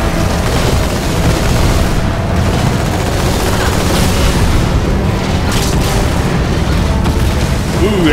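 Vehicle wreckage exploding in the Halo 2 Metropolis level, a loud continuous booming blast and rumble that fills the whole stretch, with dense battle noise and faint voices underneath.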